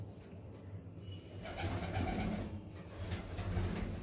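Soft cooing of Andhra pigeons, low rolling coos repeating a few times at close range over a faint background hum.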